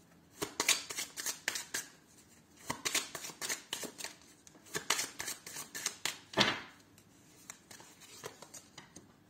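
Tarot cards being shuffled by hand during a reading, a run of crisp riffling flicks and slaps in uneven bursts, close and fairly quiet with no talking.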